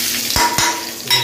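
Tadka tempering hits a little hot oil in a pan over a high gas flame, giving a loud, bright sizzle with a couple of quick utensil clicks and stirring noises, close and without talk.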